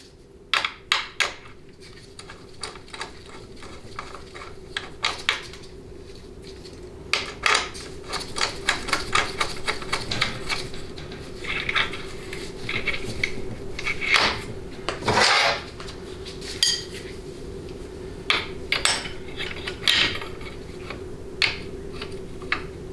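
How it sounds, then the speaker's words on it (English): Metal wrenches clicking and clanking against each other while tightening the collet on a 6L80 transmission during a teardown, with sharp irregular taps, scrapes and ratcheting clicks close by and no talking. "a 5/8 and 7/8 inch wrench will be needed to tighten down the collet"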